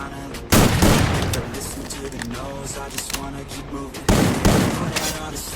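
Gunfire rings out in a ranked online shooter match: two loud, close bursts of shots with sharp attacks and lingering reverb. Quieter game sounds fill the gap between them, and there is no talk in between.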